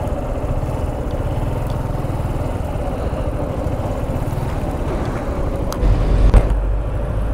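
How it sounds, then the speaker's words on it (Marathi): A Suzuki Gixxer SF motorcycle idles close by with a steady, rumbling engine note while being parked in shade, holding even throughout and rising briefly near the end with a slight rev and clunk. "छाँव में लगाते इधर बाइक को"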